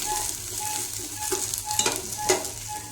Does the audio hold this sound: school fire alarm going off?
no